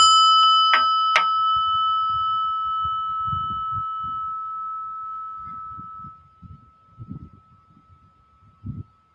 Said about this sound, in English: I'm going to ring a bell here.